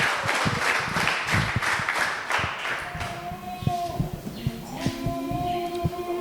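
Church congregation clapping in praise, a dense run of rapid hand claps in rhythmic beats that fade into scattered claps while singing or instrument tones rise underneath.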